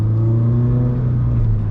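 A car engine drones in a steady, strong harmonic tone while rolling through the gears, sustained and close across the short stretch, with no talking.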